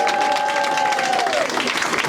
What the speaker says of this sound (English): So please put your hands together for Jamie de Villiers.